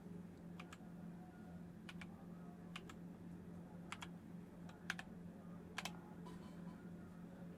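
Someone types a captcha on a computer keyboard in scattered, quiet clicks and short bursts over a steady low room hum. The typing is faint and close, with no voices.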